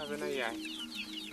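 Chickens cluck close by at a rural home in Mandimba, Mozambique, a short run of throaty clucks and calls with background voices.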